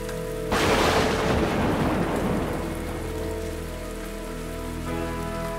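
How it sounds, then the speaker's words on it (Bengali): Heavy rain pours down on a village, a dense steady hiss that swells sharply at the start with a low rumble of thunder beneath, continuing loud and unbroken. "আকাশ অন্ধকার, বৃষ্টির শব্দে ঢাকা পড়েছে গ্রাম।"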